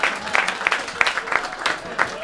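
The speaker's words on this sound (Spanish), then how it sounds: "Con ese aplauso les doy la bienvenida a la gustada sección Las aventuras de Peña Nieto." A stand-up comedy audience gives a short burst of applause mixed with cheering, fairly loud and uneven, with voices blending into the noise.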